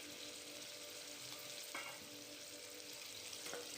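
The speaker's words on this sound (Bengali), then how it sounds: "দেখো, বেগুন আলু এবার আমি ভালো করে ভেজে নেব।" Katari brinjal pieces and potato fry in oil in a pan, a steady, quiet sizzle with occasional soft scrapes of stirring, continuous throughout with no voices.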